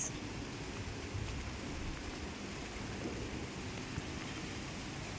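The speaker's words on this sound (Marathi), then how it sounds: "पाऊस आला पाऊस" Steady, dense hiss of rain falling, with drops landing on a car, continuous and even throughout with no voices.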